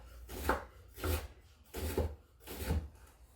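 A knife slicing fresh ginger thinly on a cutting board, with four evenly spaced rasping strokes, close and clear, and no talk.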